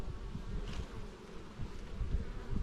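Honey bees hum in a hive opened during an early spring apiary inspection, a soft, continuous close buzz with low rustling and no voices.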